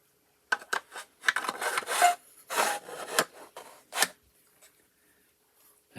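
Styrene plastic is cut to length by hand in a quiet room, a series of close, scratchy rasping strokes in short bursts, then a few faint taps before silence.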